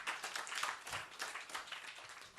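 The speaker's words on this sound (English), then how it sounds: "A big round of applause, ladies and gentlemen." An audience at a book launch claps steadily, a dense patter of many hands heard at a moderate distance, fairly quiet and even throughout with no voices over it.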